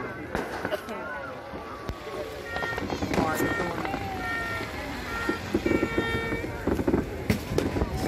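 Festival fireworks over Ancol on New Year's Eve, with scattered pops and bangs under a dense crowd din, voices talking and shouting throughout amid wind on the microphone.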